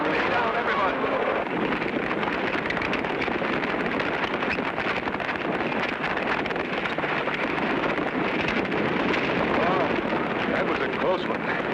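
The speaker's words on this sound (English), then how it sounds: "There's always dangerous stampedes in this open range country." A cartoon cattle stampede on open range thunders past as a dense, continuous rumbling roar of hooves, loud and unbroken from start to finish.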